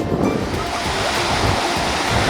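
Ocean surf washes along the Jeju coast at Gujwa, a loud, constant roar of breaking waves mixed with gusty wind buffeting the microphone, with no voices.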